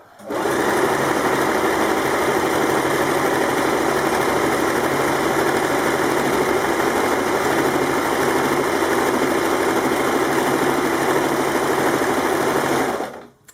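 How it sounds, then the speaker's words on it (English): A sewing machine fitted with a fringe foot sews stitches in one loud, continuous, even whir, starting and stopping cleanly, with no talking. "you can then go ahead and just sew the stitches"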